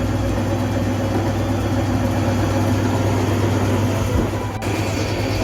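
Transformer oil treatment machine running, a loud steady mechanical drone with a constant low hum and broadband whir, unchanging throughout apart from a faint dip near the end.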